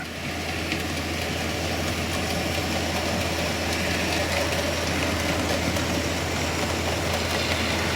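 A railway locomotive engine sits idling, giving a loud, steady, unbroken drone with a deep low rumble throughout and no one talking.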